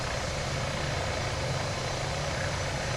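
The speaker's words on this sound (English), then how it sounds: "he's got a fast helicopter too" Helicopter engine and rotor in Microsoft Flight Simulator in VR, a steady loud whirring drone with low throbbing beneath, constant and close throughout without talk.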